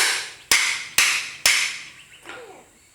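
Three sharp metallic hammer strikes at an even pace on nails in a workshop during a Toyota AE102R Corolla heater and air-con unit restoration, each ringing briefly before fading, followed by a softer scrape.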